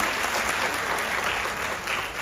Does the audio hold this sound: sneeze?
no